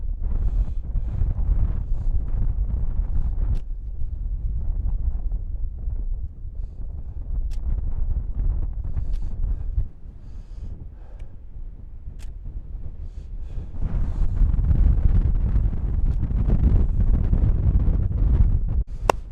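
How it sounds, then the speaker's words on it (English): Gusty wind on open Dartmoor moorland rumbles hard against the microphone, buffeting loudly in waves, briefly easing midway before surging again, with no one speaking. "It's really windy."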